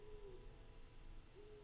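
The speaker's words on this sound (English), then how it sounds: "Hey, you can hear the owls." Owls hooting outdoors in two drawn-out, wavering calls with a pause between, fairly faint against a steady low background rumble.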